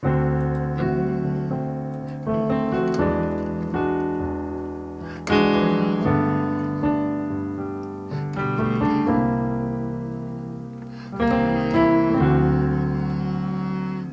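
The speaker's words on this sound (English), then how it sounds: "That's the sound of the dominant 7th chord." Piano dominant seventh chords in D played one after another in a slow, bluesy progression, each chord struck and left to ring before the next.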